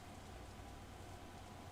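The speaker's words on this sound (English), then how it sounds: "Instead, the rain seems to increase." Rain falls steadily in a video game scene from Katawa Shoujo, a constant soft hiss of drops with no variation and no voices.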